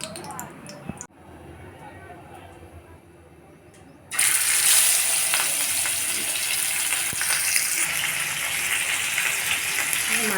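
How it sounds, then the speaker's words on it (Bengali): Coated rohu fish pieces are laid in a hot pan of oil, and after a short quiet stretch a loud, steady sizzle suddenly starts and keeps going without a break. "মাছ ভাজা বসিয়ে দিলাম"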